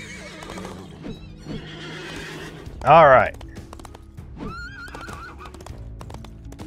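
A horse in the Disney Infinity video game lets out a loud, clear whinny in the middle, with hooves clip-clopping in a trotting rhythm throughout and someone talking over it.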